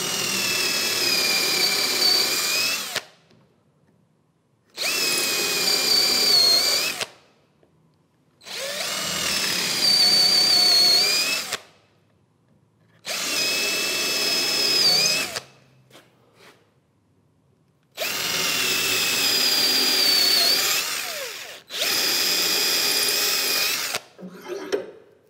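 A power drill whines loudly and close at hand, boring right through two narrow pieces of wood for screws at a workbench, in six long bursts separated by short silent gaps.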